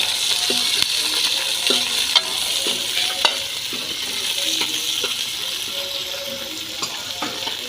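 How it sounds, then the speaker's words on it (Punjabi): Okra roasting in a pan gives a steady close sizzle, broken by the scrape and clink of stirring at irregular intervals, with no voices. "ਸਭ ਤੋਂ ਪਹਿਲਾਂ ਭਿੰਡੀ ਨੂੰ ਇਸ ਤਰ੍ਹਾਂ ਭੁੰਨ ਲਾਂਗੇ"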